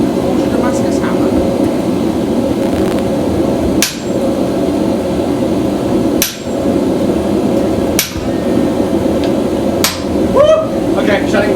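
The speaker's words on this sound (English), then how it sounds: "Forging a Damascus hammer." Hammer strikes on hot steel while forging a Damascus hammer, a steady loud pounding over a constant roar of forge or machinery, broken by a few sharp isolated clanks.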